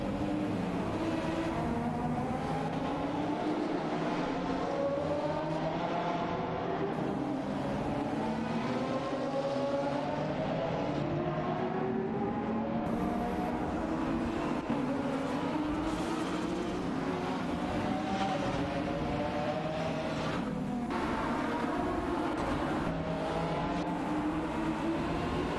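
Race cars speeding around a track in an AI racing video game, a continuous loud engine drone with shifting, sweeping pitches as cars pass, sustained without any talking.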